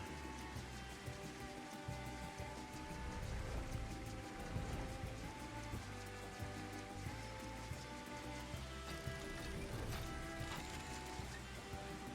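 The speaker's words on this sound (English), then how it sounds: "It's a torrential downpour." Heavy torrential rain in Final Fantasy XIV, a constant dense patter of raindrops hitting surfaces that holds at a low, even level throughout with no voices.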